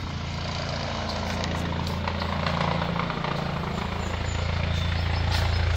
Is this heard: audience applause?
no